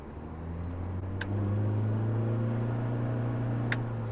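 Steady low supercharged Nissan Cube engine drone that rises slightly and holds, running up close with a couple of faint clicks.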